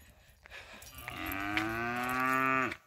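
A cow gives one long, loud moo nearby, rising and holding before cutting off, after a few faint sounds at the start.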